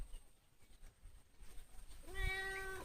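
A cat that has recovered from a broken leg gives a single clear meow near the end, following quiet rustling and handling noises.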